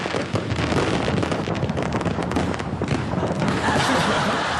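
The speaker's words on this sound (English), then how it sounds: "There's the official APEC fireworks over Sydney Harbour." Official APEC fireworks over Sydney Harbour crackle and pop in a dense, continuous volley, loud and close, with a windy rumble beneath the rapid bursts.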